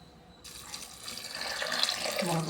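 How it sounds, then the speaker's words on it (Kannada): Water poured into a pressure cooker holding sprouted grains for a home-style sprout stir-fry, a steady splashing pour that starts abruptly and builds fuller and louder, heard close and alone. "ಇದಕ್ಕೆ ನೀರು ಹಾಕೋಣ."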